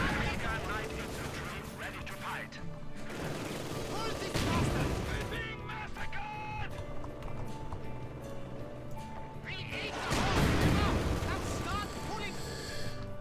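Mortar fire in Company of Heroes 2, heavy booming explosions landing in bursts around four and ten seconds, set within a dense wash of battle noise and game sound with continuous din between impacts.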